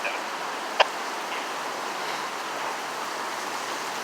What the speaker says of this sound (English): Right now they're still trying to get this water shut down, and it's been running for quite a while now